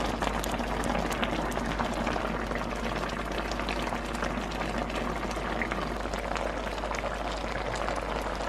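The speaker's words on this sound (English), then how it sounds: "just grab some of the liquid and pour it over, kind of like if you're basting a steak." Braising liquid for Korean galchi jorim is spooned over hairtail fish in a simmering pan, giving a steady, dense bubbling and sizzling hiss that continues without a break.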